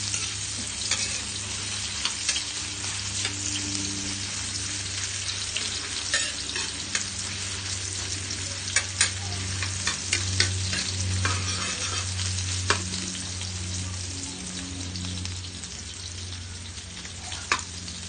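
Ginger sautés in a pan for pork batchoy, a continuous sizzle close by, with periodic scraping and stirring knocks and a steady hum underneath, no talking.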